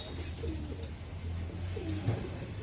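Pigeons at a commercial farm for fancy and high-flyer breeds give soft, low repeated coos, several overlapping calls close by over a light background hiss.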